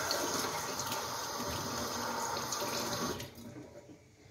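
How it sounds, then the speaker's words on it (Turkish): Water from a tea kettle boiling over in a home kitchen, a steady rushing hiss and splash that runs continuously before tapering off near the end, with no talking. "Ay yer, su taştı. Çayın suyu taştı."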